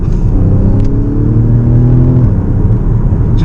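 A seven-year-old Porsche performance car engine revving hard in Sport Plus mode, a loud close rising growl with climbing harmonics that surges, then drops back to a rumbling idle.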